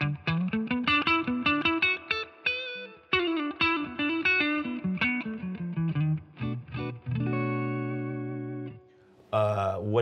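An electric guitar through a Fender Tone Master Pro plays quick picked runs and then sustained chords, shimmering with chorus and trailing delay echoes, up close and alone.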